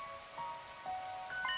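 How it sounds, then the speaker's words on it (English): Rain falling in the video game The Hundred Line: Last Defense Academy, a soft steady patter at low volume with faint chiming tones drifting through. "This rain stuff is nothing but trouble."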